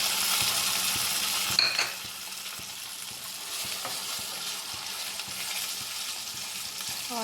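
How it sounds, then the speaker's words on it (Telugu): Onion with ginger-garlic paste and purée fries in hot oil, a steady close sizzle with a few scraping stirs and a brief clink of a utensil against the pan, no voices. "ఆయిల్లో బాగా ఫ్రై చేసుకోవాలండి."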